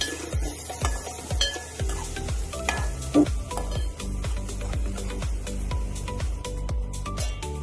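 A ground paste for an ivy gourd and onion-chili curry fries in a pan with a continuous sizzle, while a spoon scrapes and knocks rhythmically against the pan as it is stirred, close up with no voices.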